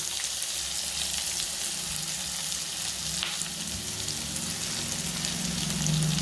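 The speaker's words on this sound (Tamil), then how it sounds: "வெங்காயம் நல்லா வதங்கணும்." Onions sautéing in a pan with salt and turmeric, a steady close crackle and hiss of frying that runs unbroken throughout, with a faint stir or scrape now and then.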